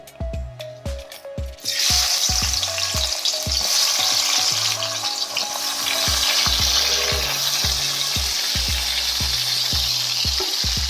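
Onions and tomatoes hit hot oil for a village-style brinjal curry. A few soft knocks come first, then a loud, sudden hiss that holds steady, with faint clinks of stirring underneath.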